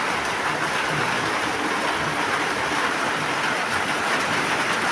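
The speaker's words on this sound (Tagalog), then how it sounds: "Okay, mukhang malakas to. Mukhang matagal-tagal itong ulan na to." Dense, steady hiss of heavy rain pouring down, constant and loud with no breaks.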